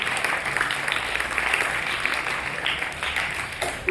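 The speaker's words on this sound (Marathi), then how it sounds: "सर्वांनी एकदा जोरदार त्यांच्यासाठी टाळ्या वाजवायच्या आहेत." Audience at a voter-awareness quiz applauding the participants, a sustained, full round of clapping from a crowd, close and loud for about four seconds with no talking over it.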